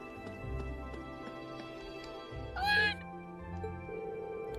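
A cat meows in the video game Trails of Cold Steel: one short, bright call near the middle, rising clearly above a steady bed of game music and ambience.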